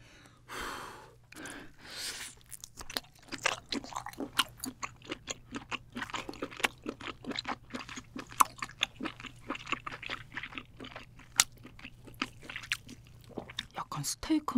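Close, wet chewing and biting on giant octopus head meat from a 16 kg octopus, with rapid repeated crunchy clicks and squelches, plus a few breaths and sighs between bites.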